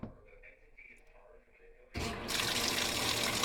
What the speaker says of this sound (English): The water really sprays from the sensor